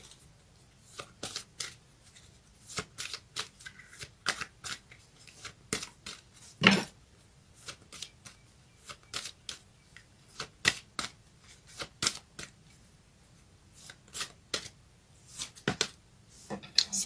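Tarot cards shuffled by hand to draw a house card, a long run of crisp riffling and slapping bursts at close range, irregular and steady throughout, with one louder snap partway through.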